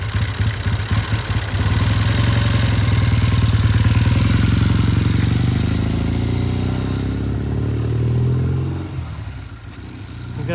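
A 1972 Triumph motorcycle engine runs close by with a steady, loud throbbing idle and mechanical clatter, swelling briefly as the throttle is blipped and then settling lower toward the end.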